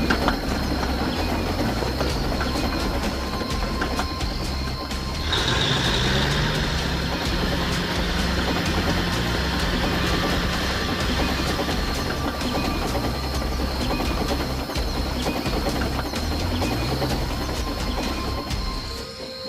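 A train rumbles steadily along the rails with a continuous roar and rhythmic clatter, loud and close, with no voices.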